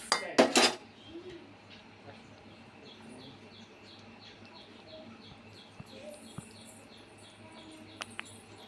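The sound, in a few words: mixing boiled peas for kurma in pot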